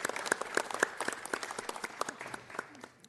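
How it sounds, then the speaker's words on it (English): An audience at a city council meeting claps in steady, moderately faint applause for about three seconds, with no one speaking over it. "Let's give them a round of applause."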